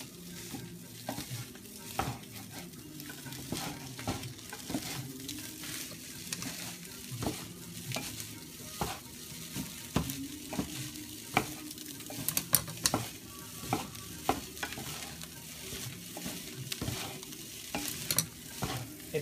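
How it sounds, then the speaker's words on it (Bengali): Rice fries in a pan and is stirred and broken up with a metal spatula, a steady sizzle under repeated scraping and clinking strokes against the pan. "একটু রাইস, ফ্রাইড রাইস হচ্ছে।"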